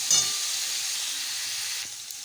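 Okra sizzling in hot oil in a pan after turmeric powder goes in, a steady close frying hiss with a brief stirring clatter near the start, no voices.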